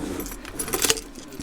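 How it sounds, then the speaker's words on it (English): Metal keys jangle and clink inside a motorhome, a couple of bright shaking bursts with a cluster of sharper chinks in the middle, fairly close and not loud. "I found 2 keys yesterday in here"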